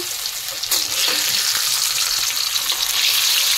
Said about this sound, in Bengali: ভালোভাবে ভেজে নেব। আমার পেঁয়াজ লাল হয়ে গিয়েছে